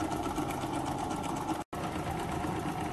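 A live steam wobbler model engine runs steadily with a fast, even mechanical clatter and hiss, close and continuous, broken by one brief dropout partway through.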